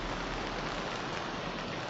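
Heavy, constant rain falls on the Uttarkashi–Gangotri mountain highway during a landslide, a dense, even wash of sound with no voices.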